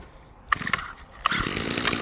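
An old curbside weed eater with its choke on catches after a couple of sharp pull-start clacks, then its small two-stroke engine sputters to life and settles into a close, buzzing run.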